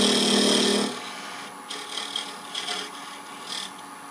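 A scraper cuts into the side of spinning wood on a lathe, a loud rasping scrape for the first second, then quieter intermittent scraping strokes in short bursts.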